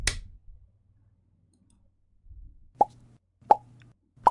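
Sharp mouse clicks stopping a CapCut screen recording, three distinct clicks spaced about a second apart over a quiet background, close and fairly loud.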